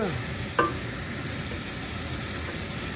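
Garlic frying in a pan toward golden brown: an even, close sizzle runs throughout, broken by a single brief clink near the start, with no talking.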